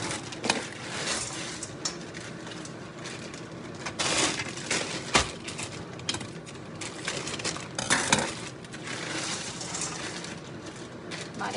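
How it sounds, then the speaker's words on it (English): Vegetables tipped into a pan of nearly cooked beef stir fry, bringing scattered clatters, scrapes and knocks of utensil on metal with a few sharp clanks over a low sizzle, some talk mixed in. "Now I'm going to be putting in the veggies."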